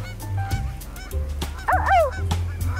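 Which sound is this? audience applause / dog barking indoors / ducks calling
ducks calling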